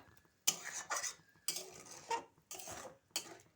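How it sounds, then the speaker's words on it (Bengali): Snail and potato curry being stirred and sautéed in a pan: four separate bursts of scraping spoon-against-pan strokes with faint sizzling between them, close up and with no talk. "ভালোভাবে এটা নেড়ে চেড়ে আমি কষে নেব"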